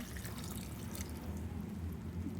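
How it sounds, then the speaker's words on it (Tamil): Water poured into a pot of village-style country chicken curry with coconut milk, a steady close trickling and splashing that runs without a break and with no talk over it. "அடுத்து தேவையான அளவு தண்ணி கொஞ்சம் மட்டும் ஆட் பண்ணிக்கோங்க"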